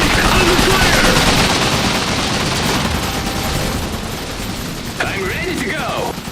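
Rapid machine-gun fire and mechanical clatter rattle loudly through a battle in the video game Iron Harvest, dense at first and thinning slightly, with a short burst of radio-like unit chatter near the end.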